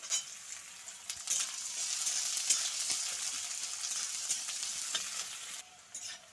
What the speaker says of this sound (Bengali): পেঁয়াজটাকে একটু প্রথমে লাল লাল করে একটু ভাজবো